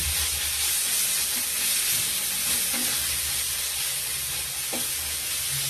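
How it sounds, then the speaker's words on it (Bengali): Broccoli and split green chilies are stirred in a hot pan, giving a loud, even hiss of frying with a few soft knocks from the spatula. "দিয়ে নাড়তে থাকছি"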